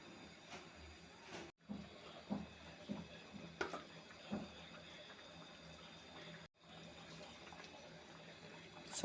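Water is poured into a capsicum chicken curry cooking in a pan: a faint, soft hiss of liquid in short uneven bursts over a quiet background.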